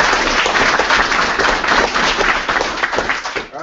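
A crowd of hackathon participants and audience applauding, dense continuous clapping at full strength throughout, tapering slightly at the very end.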